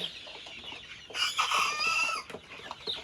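Egyptian Fayoumi chickens on a farm cluck and squawk close by, a dense burst of overlapping calls swelling in the middle and tapering off, with no talking.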